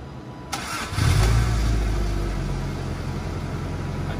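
A 1986 Toyota MR2 MK1 engine cranks briefly and catches, then settles into a steady, loud, close idle with a low rumble.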